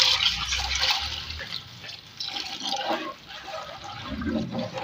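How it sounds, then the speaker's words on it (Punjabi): Water is poured into a small cooking pot for kadhi pakora, a soft, steady splashing and gurgling fill that rises and dips in loudness across several seconds. "ਹੁਣ ਇਹਦੇ ਵਿੱਚ ਥੋੜਾ ਜਿਹਾ ਪਾਣੀ"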